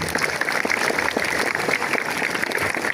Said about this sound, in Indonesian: Tepuk tangan anak-anak untuk yang petugasnya